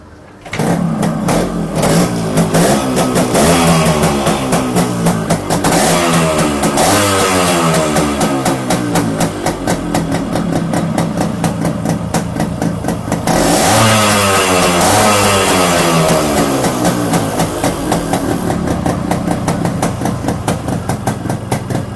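A Yamaha RX 100 motorcycle engine, freshly restored, runs loudly and steadily, its pitch rising and falling in repeated revs, close by with no talking.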